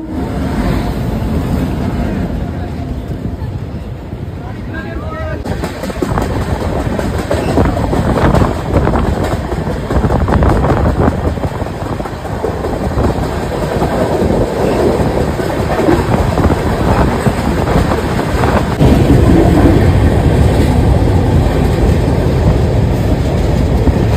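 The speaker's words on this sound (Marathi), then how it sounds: "ये बघा गाडी आली." A train pulls into platform 4 at Kalyan Junction, its deep rumble and clickety-clack of wheels over rail joints growing loud and close, with gusty wind buffeting the microphone throughout.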